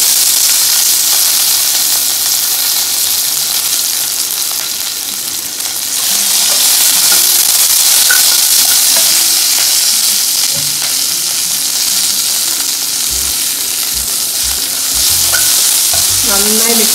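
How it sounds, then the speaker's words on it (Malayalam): Green chilli, ginger-garlic paste and curry leaves frying and being stirred in a pan for chicken varattiyathu, a steady close sizzle and hiss with scraping stir strokes, growing knocks near the end, no talk. "ഇഞ്ചി വെളുത്തുള്ളി പേസ്റ്റ് ചേർക്കാം കരിവേപ്പില ചേർക്കാം ഇതൊന്ന് മിക്സ് ചെയ്യാം"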